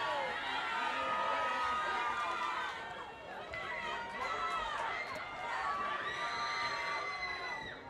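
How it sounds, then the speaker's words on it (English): Crowd noise at a varsity high school football game between Rancho Alamitos and Anaheim, a sustained roar of cheering and youthful shouting with whoops rising and falling throughout, fairly distant and steady. "the crowd still here and still alive and roaring"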